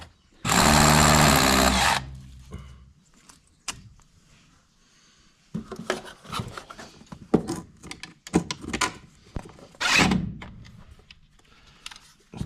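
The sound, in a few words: power drill drilling hole in wall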